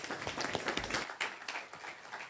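A church congregation at a Christmas singing and Bible quiz event claps loudly, a thick, uneven burst of many hands that carries on steadily and then thins a little toward the end.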